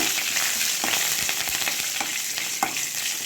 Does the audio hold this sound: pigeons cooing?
no